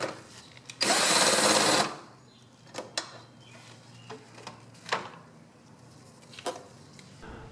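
A socket extension removes the two 10mm screws holding the air box on a Toyota Camry 2.5L engine: one loud whirring burst lasting about a second, then faint clicks and light metallic taps.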